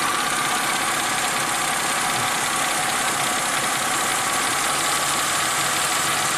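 A car engine idles steadily and close by as its RPMs are being adjusted, a continuous rough, buzzing drone with no voices over it.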